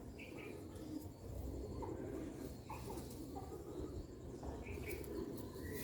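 Pigeons of an old breed coo softly in the background, several low calls repeating over a steady noisy hum, faint and somewhat distant.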